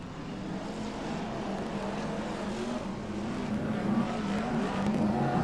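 BriSCA F1 stock cars race down the home straight at Long Eaton, a steady roar of several engines on a dirt oval, loud and continuous with no talk.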